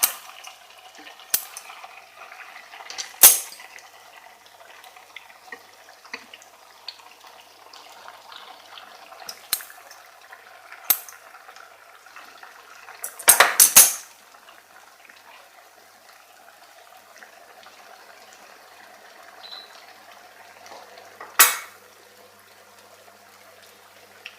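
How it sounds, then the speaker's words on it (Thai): Churros, Spanish fried dough, fry in hot oil until golden. A faint, steady sizzle runs throughout, broken by a few sharp, scattered pops and clatters. "อันนี้ก็จะทอดแค่พอให้มัน เหลืองๆนะ"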